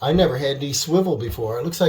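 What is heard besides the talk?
None of the usual background noises is heard.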